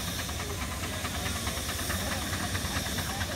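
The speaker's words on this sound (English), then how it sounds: "Number 17 there is a 4-inch Foster agricultural engine." A 4-inch Foster agricultural steam engine gives off a steady, broadband hiss over a low rumble at a steam rally, loud and continuous for the whole span with no voices over it.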